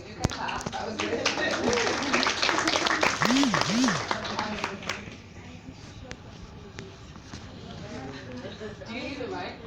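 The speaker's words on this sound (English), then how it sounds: "You can clap." A panel audience at a tech event about gender claps in a scattered burst that fades away, while speech runs over and after the clapping.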